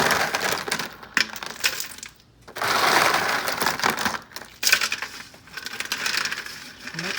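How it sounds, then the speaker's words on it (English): Ice gets tossed and mixed by hand into cut vegetables for bread and butter pickles, producing loud close crunching, clinking and rattling in bursts with brief pauses between them. "Mix all that ice up in there"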